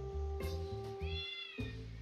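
Two separate meows from a video game cat ring out over a steady droning background tone, the second one a little louder and following a short pause.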